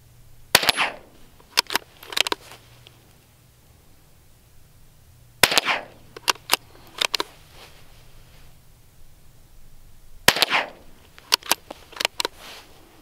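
.22 LR rimfire rifle shots ring out at steel targets without bipods, sharp cracks in three clusters, each a shot followed by quick metallic pings, with quiet gaps between.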